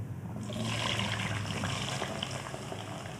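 Potatoes dropped into hot oil in a pan for a vegetable sabji, followed by a soft, continuous bubbling sizzle that stays fairly quiet and close, with no talking.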